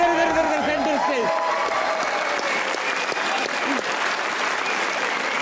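A studio audience at a comedy talk show applauds, a dense, sustained burst of clapping with a voice speaking over it at the start.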